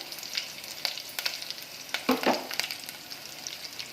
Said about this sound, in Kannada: ನೋಡಿ, ಇವಾಗ ಇದು ಚೆನ್ನಾಗಿ ಫ್ರೈ ಆಗಿದೆ